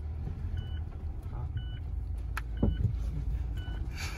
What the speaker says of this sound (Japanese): 妹にちょっと運転頼んでます